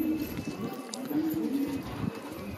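Domestic pigeons coo softly in a low, rolling tone, close by, with faint background noise.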